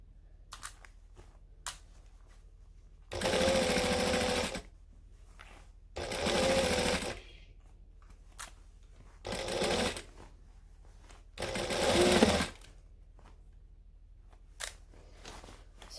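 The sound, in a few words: sewing machine stitching a sleeve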